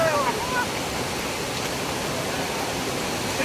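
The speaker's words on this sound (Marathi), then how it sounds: "धबधबा नाही आहे, धबधब्याचं वाटतं पाणी आहे." Water gushes steadily like a waterfall, a close, loud and unbroken roar lasting a few seconds, with a brief voice-like trace at the very start.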